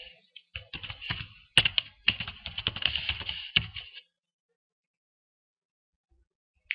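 A username and password are typed on a computer keyboard: quick, close, uneven runs of keystroke clicks for about four seconds, then silence broken by one final click.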